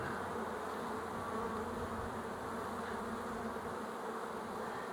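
Honeybees hum steadily and densely around an open hive during a split inspection, a close, continuous buzzing swarm with no voice over it.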